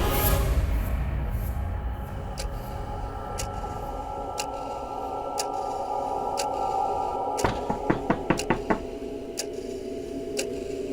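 Knocking on a door in a Hindi crime drama: faint single taps spaced a second or so apart, then a quick run of about six firm knocks, heard over a steady low room hum.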